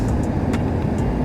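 A 2022 Ford F-350 Platinum Tremor pickup on 20-inch wheels rolls over rough pavement and hits a pothole, a steady low road rumble with a few brief sharp knocks and clunks from the suspension.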